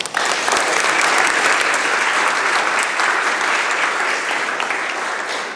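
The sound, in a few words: applause from the legislature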